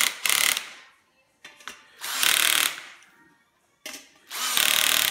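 Power tool tightening loose bolts on a swivel chair base, in three loud whirring bursts of roughly half a second to a second each, separated by brief pauses and quieter handling clicks.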